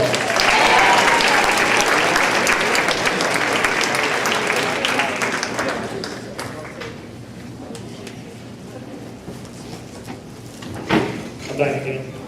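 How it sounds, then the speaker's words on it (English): Band and color guard awards night: an audience gives the students a loud, dense round of clapping that gradually thins and dies away after about six seconds, leaving a quieter room with scattered knocks and bumps while someone talks. "let's give all these students a round of applause"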